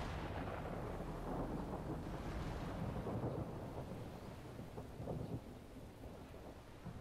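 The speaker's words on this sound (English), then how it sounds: "God damn, stop being so rainy." A thunderstorm with rain rolls through the video game Total War: Warhammer 2, deep rumbling thunder over a steady downpour, strongest early and easing slightly toward the end.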